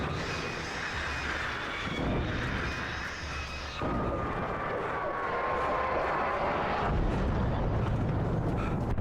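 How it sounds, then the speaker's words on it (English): Loud, steady helicopter engine roar with a faint high whine as the helicopter flies away in Alan Wake, continuous throughout with no clear fade. "Well, there goes the helicopter."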